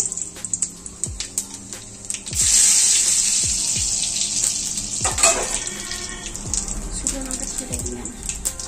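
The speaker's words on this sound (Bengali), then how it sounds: "এই গরম তেলে এবার আমরা জিরেটা দিয়ে দিচ্ছি।" Cumin seeds dropped into hot white oil, setting off a sudden loud hissing sizzle that keeps going steadily, with a few light utensil clinks before and during it.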